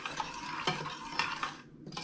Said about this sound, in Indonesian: Sekarang saya aduk.